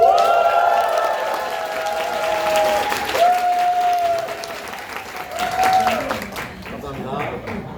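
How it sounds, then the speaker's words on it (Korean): An audience rises for a standing ovation at a magic show, producing loud, sustained applause and crowd noise, with cheering and whooping voices rising over the clapping and tapering off near the end. "여러분 모두 일어나서 기립박수 해주시는 겁니다"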